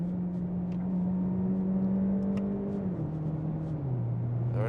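An Opel Grandland plug-in hybrid engine hums steadily inside the cabin, its pitch stepping down in distinct drops as gears are shifted down with the paddle shifters, a continuous close drone with no talking.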